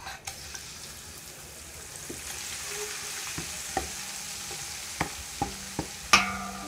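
Ginger paste sizzles gently in warm peanut oil while a spoon stirs it, making a soft steady crackle punctuated by several light scraping clicks of the utensil against the pan, fairly quiet and close.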